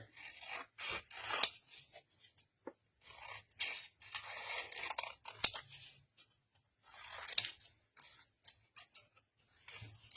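Scissors snipping through paper fruit stickers at close range, with short rasping cuts coming in uneven bursts separated by brief pauses, quiet and alone.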